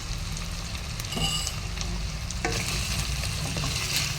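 Carrot, potato and green pea pieces for aloo kurma are stirred together in a hot pan, a steady sizzle running throughout with scraping stir strokes near 1.2 and 2.4 seconds.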